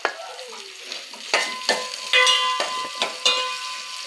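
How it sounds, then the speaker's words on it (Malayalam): Onions with a little salt browning in a pan for Kerala kadala curry, a gentle sizzle punctuated by several sharp scrapes and taps of a spatula stirring, close by with ringing metallic overtones. "ഉള്ളി ഒന്ന് വഴറ്റി വരാം"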